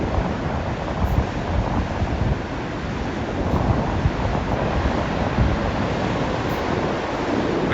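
Ocean waves pound against a tall basalt rock on the Giant's Causeway coast in Northern Ireland, a loud, continuous roar of surf mixed with wind buffeting the microphone, with no voices.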